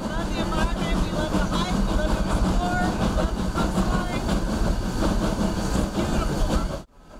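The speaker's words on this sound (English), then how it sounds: "Passengers started to ride the train for the scenery." Skunk Train passenger train rolling through the Redwood Forest from Fort Bragg, a loud continuous rumble with rhythmic wheel clatter that cuts off abruptly near the end.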